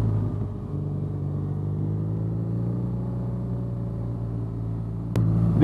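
A BMW R nineT motorcycle engine runs in first gear during a demo ride in the rain at Long Beach, a steady low rumble with a slight rise in pitch and a sharp jump in loudness near the end.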